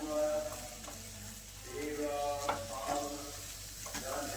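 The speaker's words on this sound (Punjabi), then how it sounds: "ਮਸਾਲੇ ਦੇ ਵਿੱਚ ਆਪਾਂ ਚੰਗੀ ਤਰ੍ਹਾਂ ਮਿਕਸ ਕਰ ਲੈਣਾ ਜੀ ਇਹਨੂੰ ਰਲਾ ਲੈਣਾ ਚੰਗੀ ਤਰ੍ਹਾਂ ਇਸ ਤਰੀਕੇ ਨਾਲ" Besan mixture with spices being stirred in a hot pan for besan bhurji: a steady scraping stir with a soft sizzle underneath, fairly quiet and continuous, with small clinks from the utensil.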